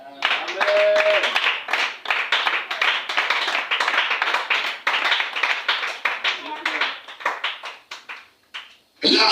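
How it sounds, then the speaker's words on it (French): A church congregation breaks into sustained applause, dense and close clapping that fades out near the end, with a voice heard over the start. "Acclamez le Seigneur."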